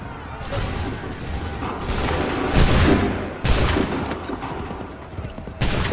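Soldiers' musket volleys crack out in repeated loud bursts on an Assassin's Creed 3 battlefield at Lexington and Concord, each blast followed by rolling echo and crowd noise, with shouted commands in between.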